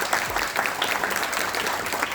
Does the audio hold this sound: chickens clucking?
no